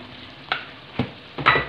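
Aloo gobi being stirred in a pan to mix, with three distinct spoon scrapes and soft sizzling between them, close and clear, no talking.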